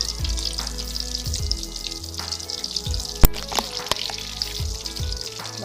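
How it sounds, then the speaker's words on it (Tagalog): Chicken meatballs fry in a pan of hot oil, a steady, loud sizzling hiss with a few sharp spits and pops rising over it. "nailagay ko na po ang ating bola-bola sa kawali na kumukulo"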